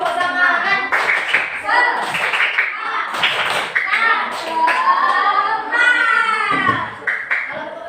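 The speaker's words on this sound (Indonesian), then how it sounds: "mari kita tepuk semangat dulu" Schoolchildren in a classroom do a rhythmic spirit clap together, sharp repeated hand claps mixed with their voices and a teacher speaking over the group.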